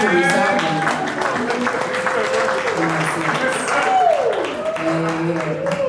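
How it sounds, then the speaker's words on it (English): An audience at an artist interview event gives steady applause, a continuous patter of clapping mixed with crowd voices, with musical tones sounding underneath. "give this man, Dan, a round of applause"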